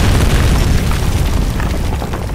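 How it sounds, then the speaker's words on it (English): A deep, loud rumble of a cave-in collapse in the horror game Amnesia, a broad low roar that fills the whole stretch and slowly eases off, with no talk over it. "Did that just cave in?"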